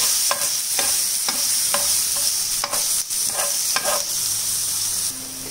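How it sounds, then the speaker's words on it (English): Ginger garlic paste sautéing in a hot pan for baida roti filling, a loud steady sizzle punctuated by a regular series of spatula taps and scrapes, no speech. "Now let us add 2 teaspoons of ginger garlic paste. Saute a bit."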